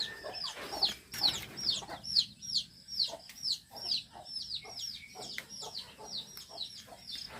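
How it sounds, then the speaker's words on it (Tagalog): Chickens cluck around their laying nest behind a rural house, a string of fairly faint, rhythmic clucks and short calls repeating steadily with small pauses. "Ito yung pangitlogan ng mga manok natin, guys."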